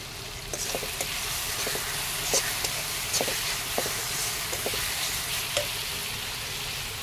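Ground spice paste fries in oil with softened tomatoes in a pan, a steady mid-level sizzle broken by repeated light taps and scrapes of a stirring spoon, with no voices.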